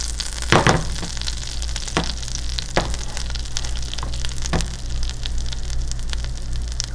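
Butter sizzling as it browns in a pan, a steady close crackling hiss with a few sharper pops and spits scattered throughout, no voices.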